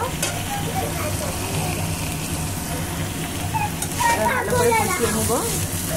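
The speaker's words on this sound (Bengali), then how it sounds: "এবার ভালো করে কষিয়ে নিব।" Spices frying for a fish curry with cauliflower and potato, a loud continuous sizzle with stirring scrapes near the end, heard up close under a low background hum.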